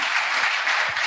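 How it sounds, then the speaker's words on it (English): An audience at a hackathon demo event applauds, a steady, even roar of many hands clapping at once, filling the room for about a second without any talking. "I think we all owe Nico a big applause for organizing this as well"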